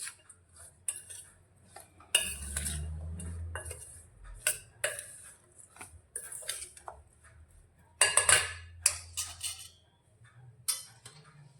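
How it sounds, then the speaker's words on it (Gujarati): Grated carrots are mixed into spiced oil for a pickle, with a spoon clinking and scraping against a steel bowl in irregular bursts separated by quiet pauses. "તો હવે તેની અંદર આપણે જે ગાજર લીધા છે તે લઈ લઈશું અને તેને પણ સારી રીતે મિક્સ કરીશું."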